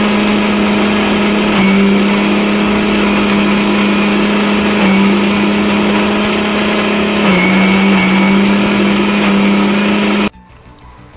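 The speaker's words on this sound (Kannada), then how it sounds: "ಅದೇ ಮಿಕ್ಸಿ ಜಾರಿಗೆ ಬೆಲ್ಲ ಮತ್ತು ಕಾಯಿ ತುರಿ ಹಾಕೊಂಡು ಸ್ವಲ್ಪ ಉಪ್ಪು ಹಾಕೊಂಡು ರುಬ್ಕೊಂಡು ಬಪ್ಪ" Mixer grinder jar grinding jaggery, grated coconut and salt: a loud, steady motor whine close by that dips and recovers as the load shifts, then cuts off abruptly near the end.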